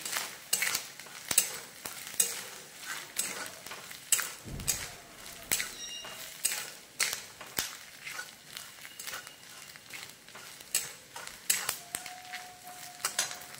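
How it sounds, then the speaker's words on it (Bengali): Grated coconut fries in a pan and is stirred over and over, with regular scraping strokes and a light sizzle. The sound is fairly quiet and close by, with no voices. "নারকেলটা ভালো করে লাল করে ভেজে নেব।"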